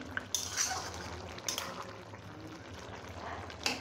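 Metal pot lid lifted off a simmering fish curry with taro root, followed by a spoon clinking and scraping as the thick liquid is stirred; quiet, close, a few sharp metallic taps.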